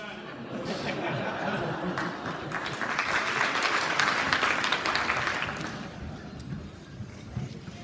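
A graduation ceremony audience claps in unison for a math teacher's class exercise, steady broadband clapping across the whole stretch, swelling in the middle, with some chuckles and crowd murmur mixed in.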